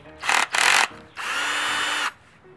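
A power drill drives a lawn mower blade sharpening grindstone in loud whirring bursts: two short runs, then a longer sustained spin that cuts off, close and with no talk.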